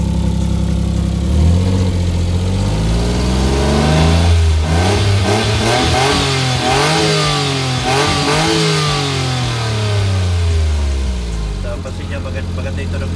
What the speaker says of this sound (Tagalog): So maganda naman yung tunog ng engine i-revolution natin.